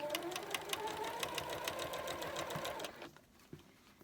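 A sewing machine stitches quilt fabric in a fast, even run of needle clatter, close and clear, then stops, leaving a few faint handling sounds.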